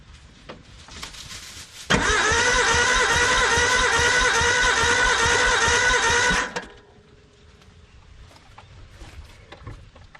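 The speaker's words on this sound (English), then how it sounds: "I'll crank that again." Suzuki Sierra SJ50 engine cranking on the starter during a compression test: a steady, loud rhythmic churning that runs about five seconds, then stops abruptly, leaving quiet background.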